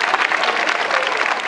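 A school audience of primary pupils and teachers claps at a Christmas assembly, with steady, dense applause from many hands filling the whole moment without a break.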